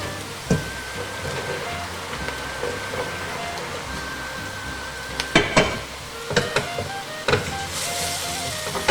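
Yellow beans tipped into a hot pan of garlic and spices for Macedonian boranija stew, giving a steady close sizzle and fry with sharp clattering bursts as the beans land and get stirred.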